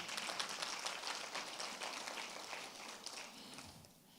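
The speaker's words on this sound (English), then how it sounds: "Can we give a round of applause" Workshop audience giving a round of applause, a continuous spread of many people clapping at a modest distance, fairly faint and tapering off toward the end.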